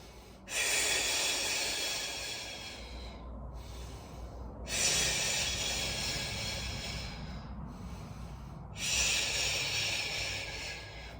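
Three long, forceful breaths during a Pilates exercise, evenly spaced about four seconds apart, each a loud close hissing rush of air that fades before the next, with no talking.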